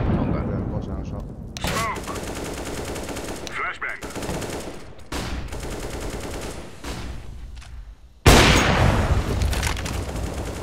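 Rapid bursts of automatic gunfire and single shots ring out in a competitive Counter-Strike: Global Offensive match, sharp repeated cracks with a loud volley near the end, while players talk over it.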